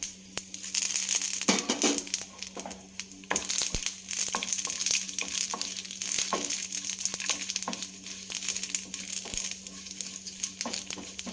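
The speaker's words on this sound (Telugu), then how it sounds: "ఈ వెల్లుల్లి కొంచెం వేగాలండి" Garlic frying in oil in a pan, a dense continuous crackling sizzle with scattered sharp pops and clicks, close and fairly loud, no voices.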